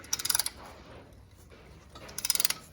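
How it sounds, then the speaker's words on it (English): Two short bursts of rapid metallic ratcheting clicks frame a quieter stretch as an old pad presses a brake caliper piston back on a Ford F-150, close and crisp. "we put an old pad in there, and we're going to push it out like that so it goes back evenly"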